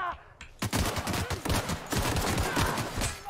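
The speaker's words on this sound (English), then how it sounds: "is that rapid fire?" Rapid bursts of gunfire in the video game The Outer Worlds, loud dense volleys of shots firing continuously after a short quiet opening.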